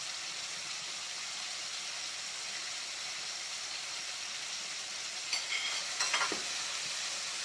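Sliced garlic fries gently in a pan, giving a soft, even sizzling hiss with a couple of light clinks near the end, quiet and close with no voices.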